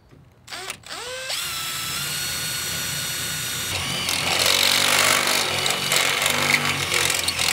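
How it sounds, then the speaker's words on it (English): A power drill bores a 5/8 inch hole with a worn bit while installing a trailer reverse camera; after a few short starts it whines continuously, then grows louder and harsher as it cuts through. "I'll drill that out."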